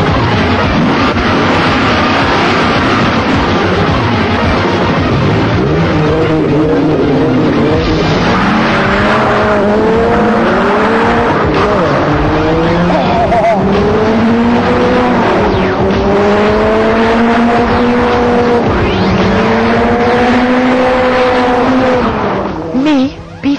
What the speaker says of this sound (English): the 8-litre V10 Chrysler Viper